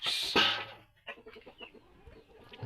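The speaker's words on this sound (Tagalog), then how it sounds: "Ang ingay ng manok." Chickens cluck and squawk close by, a loud burst at first, then a scattering of softer clucks.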